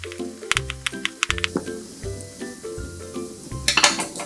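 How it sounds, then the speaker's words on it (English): A small knife scrapes and clinks against a metal angel food cake pan, working around the centre tube in short, uneven strokes with sharp metallic taps, close and fairly loud, with no speech. "around the center tube, I'm using just a little smaller knife"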